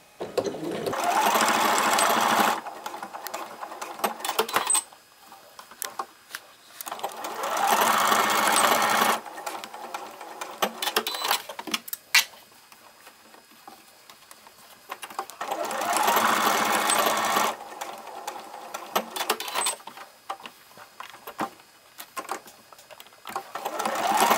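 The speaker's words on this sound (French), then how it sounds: "Donc on retourne à la machine pour fixer ces 4 points." A sewing machine stitches elastic onto a fabric face mask, running in three loud, steady buzzing bursts of a few seconds each, separated by quieter pauses with faint handling noise.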